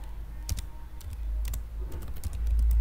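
Typing on a computer keyboard, a steady run of clicky keystrokes with a few louder taps, close and alone over a low background rumble.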